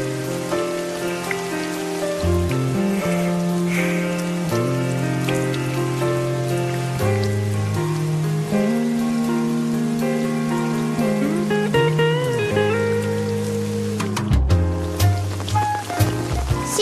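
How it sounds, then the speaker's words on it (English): Cartoon sound effect of falling rain, a steady patter heard under prominent sustained musical tones that play throughout. "It's still raining."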